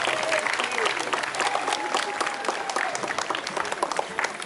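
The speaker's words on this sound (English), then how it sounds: "A round of applause for our guest of honor and" A crowd at the opening ceremony of a national senior swimming championship at a city pool applauds a guest of honor with steady, dense clapping, a little chatter mixed in.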